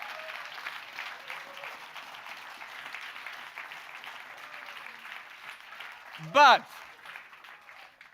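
Audience applause at a happiness summit lecture, a broad steady patter of many hands running the whole stretch under a speaker's voice, with a brief louder burst near the end.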